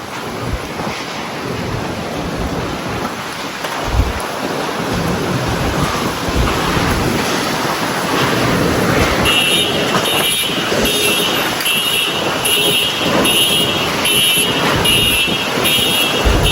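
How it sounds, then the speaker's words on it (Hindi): Strong storm wind roars loudly and steadily outdoors during a storm in Pakistan, a continuous gusting rush with buffeting on the microphone and a faint tonal whine, with no speech. "इतना तेज़ तूफ़ान आ रहा है।"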